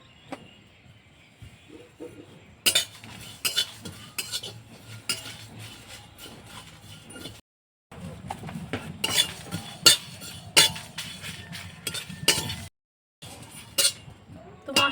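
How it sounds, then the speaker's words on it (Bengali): Dried chili, coriander, cumin, panch phoron and fennel are dry-roasted in a pan, with close clinks and scrapes of a metal spoon stirring in bursts broken by short pauses. "তো ভাজা মশলাটা আমি তৈরি করে নেব, একটু ভেজে নেব শুকনো খোলায়।"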